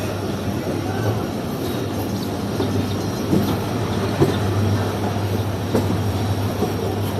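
The Shah Latif Express rolls along the rails toward Mirpur Khas Junction, a steady rumble with a low hum and occasional clicks and knocks from the wheels, running continuously throughout.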